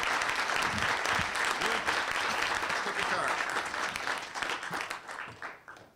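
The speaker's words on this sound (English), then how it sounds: "Let's have a round of applause before we go to the final round." A crowd applauds during a Republican Senate candidate debate, dense sustained clapping that holds steady and then fades out over the last second or so.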